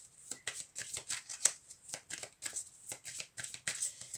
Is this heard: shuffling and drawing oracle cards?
yes